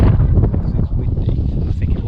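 Strong wind buffets the microphone on a glass bridge, a loud continuous low roar with rapid gusty fluctuations and little else audible.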